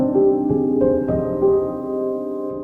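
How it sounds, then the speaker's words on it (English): Lo-fi vintage upright piano recorded to cassette tape, a few soft sustained notes ringing over a low, constant tape hiss, quiet and intimate. "It's a beautiful vintage upright piano which I passed to a cassette tape."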